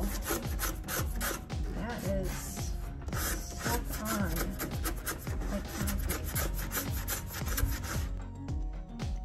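A painted furniture surface is scratched hard and repeatedly in a scratch test, giving a continuous close rasping and scraping in quick strokes that lasts nearly the whole clip.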